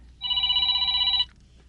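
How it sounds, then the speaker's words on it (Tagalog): A cellphone rings indoors in a hospital room, one steady electronic ringing burst of about a second, loud and clear over a quiet background with no talking. "Nagre-ring ang cellphone mo."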